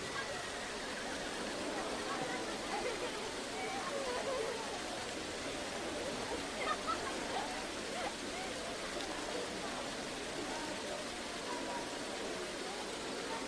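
Steady rain falls as a constant soft hiss, faint and even throughout, with no other distinct sounds on top.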